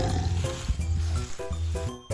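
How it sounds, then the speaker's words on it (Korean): A tiger at Space Farms Zoo roars loudly, deep rumbling growls repeated in several surging bursts, close and resonant with steady background noise. "맹수 중에 맹수 호랑이가 동물농장에 쩌렁쩌렁 울리도록 큰 소리로 짖어서 그 위험을 과시했습니다."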